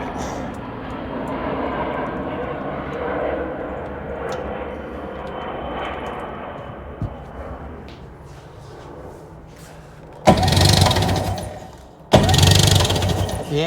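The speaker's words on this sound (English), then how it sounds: "Airplane." An airplane passes overhead during an outdoor Sea-Doo GTX/GSX repair session, a broad engine drone swelling loud from a distance, with two later sharp bursts of louder noise near the end.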